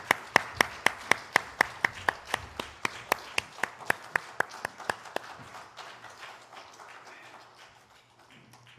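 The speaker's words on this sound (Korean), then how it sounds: "박수 올려드리겠습니다" A congregation at a Korean Sunday joint worship service claps in steady unison, sharp evenly spaced claps about four per second that hold for several seconds and then fade and scatter.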